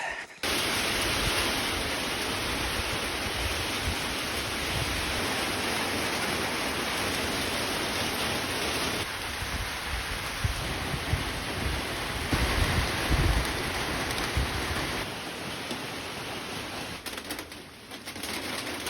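Steady rain hisses down on a farm without a break, a dense, even wash of sound that shifts slightly in intensity partway through.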